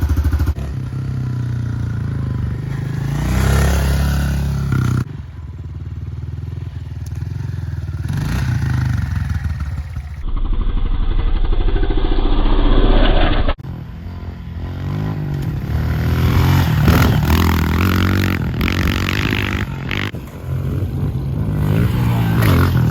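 A Honda CRF1250 motorcycle is ridden for a spin, its engine droning and revving loudly up close as speed rises and falls, with wind buffeting and some rattling clatter.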